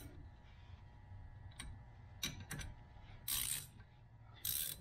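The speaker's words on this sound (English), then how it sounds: "Then I'm going to take my gear wrench." Ratcheting gear wrench tightening a wheel stud, giving short bursts of clicking pawl ratchet strokes at close range, separated by pauses, over a low background hum.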